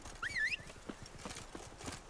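A horse whinnies briefly near the start in The Witcher 3: Wild Hunt, Blood and Wine, followed by soft rhythmic hoof clops under faint background ambience.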